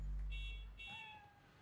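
A cat meowing in the Marvel's Spider-Man video game, a single drawn-out meow that slides downward, heard close after a brief low rumble, with no talk.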